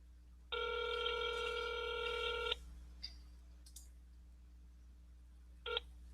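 Touch-tone keypad tones on a telephone, a long sustained dial burst followed by a couple of short beeps, quiet and isolated against a faint steady hum.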